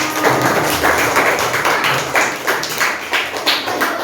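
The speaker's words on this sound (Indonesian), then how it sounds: "Ayo tepuk tangan semuanya" A class of students claps their hands together in a dense, steady burst of close, loud clapping that keeps going throughout.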